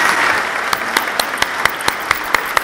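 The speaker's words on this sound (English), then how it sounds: "can we have another round of applause for our core academic award recipients?" An audience at a sixth-grade academic awards ceremony applauds award recipients, with dense, continuous clapping and a few sharp, distinct claps standing out at regular intervals.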